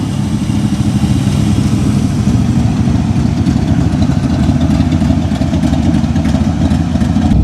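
A 1965 Shelby Cobra 427 replica idles loud and close on a cold, cloudy day, its deep, steady rumble running unbroken throughout with no voices.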